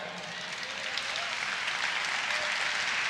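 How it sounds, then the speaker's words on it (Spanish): A church congregation applauds during a sermon, a dense, steady wash of many hands clapping that swells slightly toward the end. "Dele un aplauso al Señor."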